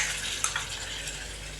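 Finely chopped tomatoes hit hot ginger-garlic paste in a pan, giving a steady, close hiss of sizzling with a couple of faint utensil clicks.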